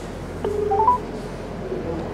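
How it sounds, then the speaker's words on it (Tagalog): Telephone being dialed: a short run of rising touch-tone beeps, close and clear, over a steady low room hum with faint background murmur. "Tawagin mo akin ang telepono."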